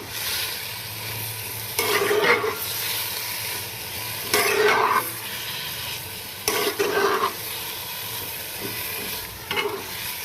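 Eggplant and fried taro curry get stirred in a hot pan, a steady sizzle broken by several louder bursts of scraping and stirring at intervals, close and with no talking.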